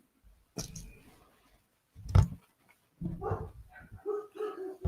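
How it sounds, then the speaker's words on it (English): Dogs bark and yip in a few sharp bursts, one loud close bark in the middle, followed by whining, whimpering calls. "Sorry about my dogs."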